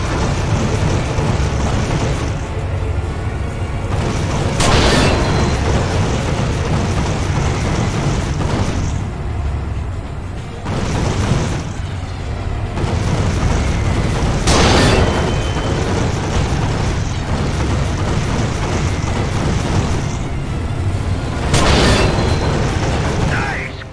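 Turrets in Ratchet and Clank Future: Quest for Booty fire in a steady barrage of loud, heavy booms every few seconds over a dense mechanical rumble, with no talking.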